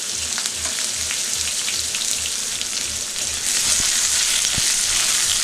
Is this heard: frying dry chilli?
yes